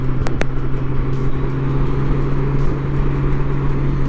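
A Honda Gold Wing motorcycle engine drones steadily while riding in sport mode, a loud, even hum with wind rush, plus a couple of brief clicks near the start.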